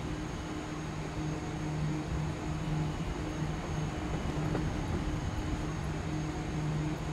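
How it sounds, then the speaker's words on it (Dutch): A train pulls into a station in Train Simulator 2022, producing a steady low rumble of rolling wagons with a faint sustained tonal hum, consistent and unbroken, with no speech. "zo komen treinen elke keer aan op het station"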